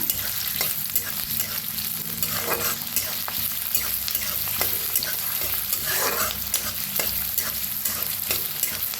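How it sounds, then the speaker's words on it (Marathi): Onion frying in a pan with garlic, a steady loud sizzle interrupted by the scrape and clatter of stirring, continuous and close throughout. "त्याच्यात टाकूया कांदा घेऊया भाजून"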